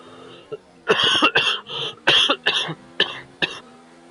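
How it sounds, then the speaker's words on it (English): A run of harsh, repeated coughs in several bursts, close and loud, with short pauses between fits. "Sorry about my cough, I can't help it."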